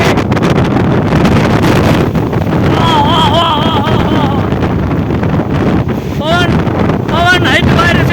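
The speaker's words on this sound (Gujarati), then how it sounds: "કેટલો અતિ ભારે પવન ફૂંકાઈ રહ્યો છે." A violent storm wind roars continuously at a village, buffeting the microphone loudly throughout, with faint whistling tones and bird-like squeals carried on the gusts.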